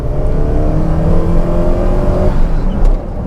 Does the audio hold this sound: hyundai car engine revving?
yes